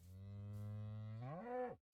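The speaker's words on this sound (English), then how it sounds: "An angry cow." A cow lets out one long, loud, low moo that rises in pitch near the end before cutting off abruptly, heard alone and close.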